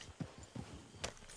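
Hooves of a horse in Red Dead Redemption 2 clip-clopping faintly in a short, uneven run of soft thuds.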